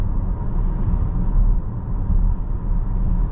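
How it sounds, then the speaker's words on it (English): Inside a 2024 Volvo XC60 Plus cruising at 45 mph on a two-lane highway, a steady low road and tire rumble fills the cabin, even and continuous with no talking over it. "There's just a little bit of tire noise"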